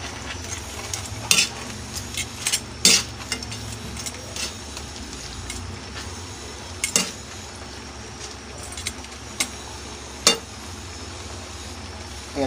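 A sizzling pan of sauce with oyster sauce being stirred, a constant soft frying hiss broken by sharp, irregular scrapes and clinks of the utensil against the pan.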